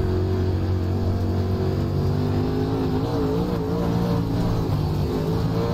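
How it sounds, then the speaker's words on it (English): Dirt late model race car engines in the iRacing sim game, a steady loud droning roar with shifting pitch as several cars run close together, no talk. "Car on my inside is racing me awesomely."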